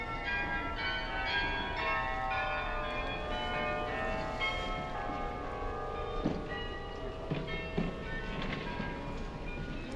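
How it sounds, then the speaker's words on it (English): The tower bells of Utrecht's Dom Cathedral peal continuously in overlapping rings, resonant tones layering together over a steady outdoor background. "the tower bells started ringing to create the perfect ambiance."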